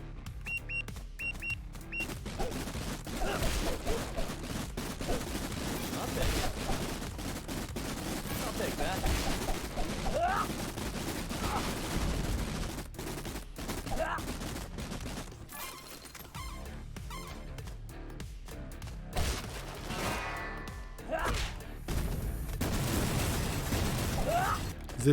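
Explosions and gunfire in the action game The Takeover: a dense, continuous barrage of shots and blasts over a heavy rumbling bed that keeps up throughout.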